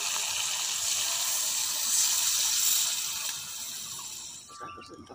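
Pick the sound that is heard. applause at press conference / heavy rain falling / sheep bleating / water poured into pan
water poured into pan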